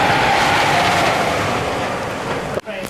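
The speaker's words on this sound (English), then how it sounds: "The train is operating." An amusement park ride train runs along its track at Liseberg, a steady rumbling roar with rail clatter that cuts off abruptly near the end, with no talking.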